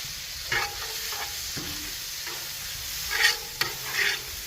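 Butter and a little olive oil frying on a Blackstone flat-top griddle, a steady hissing sizzle with a few soft spatula scrapes and brief flare-ups of crackle.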